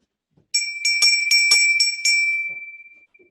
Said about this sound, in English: think of this bell.